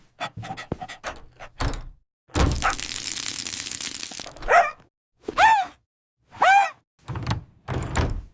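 A crackling burst rings out as an animated character gets a static shock from touching a door, a dense crackle of about two seconds set among short squeaky cartoon voice sounds and thumps.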